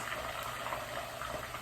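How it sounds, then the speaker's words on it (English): Water sizzling and crackling in hot olive oil with fresh basil in a pan, a faint, steady bubbling hiss with no voices. "And I do hear it sizzling, and that's because of the water."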